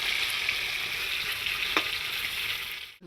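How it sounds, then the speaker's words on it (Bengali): Fish pieces frying together in a pan at an outdoor riverside picnic in the Sundarbans, a steady, close, dense sizzle with a faint stir click midway, cutting off abruptly near the end. "সব মাছ একসঙ্গে ভাজা হচ্ছে এখন।"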